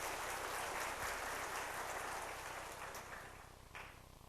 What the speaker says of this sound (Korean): 우리 뜨거운 박수로 축하하십시다